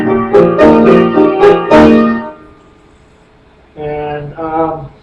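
Piano playing the left-hand part of a song: a few struck chords that ring and fade, a brief pause, then two more sustained low chords, close and clear, with no talking.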